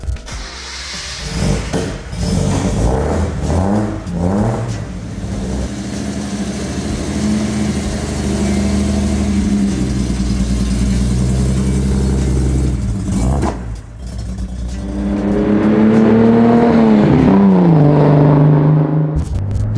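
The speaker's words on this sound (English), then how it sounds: "I say we go for a little drive and see what it feels like to, you know, be in an old Z again." A 1972 Datsun Fairlady 240Z engine runs loud and steady, then revs up as the car pulls away, with a brief dip near the end before it surges again. No one speaks.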